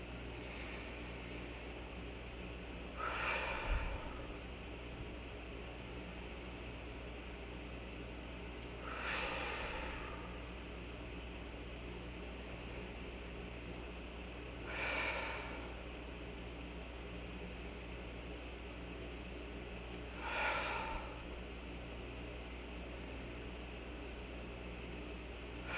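Slow, deep breaths during a guided breathing exercise, four long airy exhales spaced about six seconds apart over a steady background hiss.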